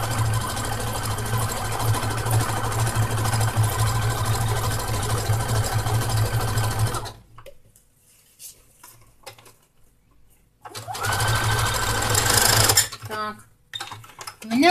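A sewing machine runs steadily while stitching a knit seam for an eco tote bag, pauses, then stitches again in a shorter loud burst, close up and alone.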